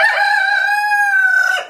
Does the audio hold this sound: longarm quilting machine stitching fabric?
no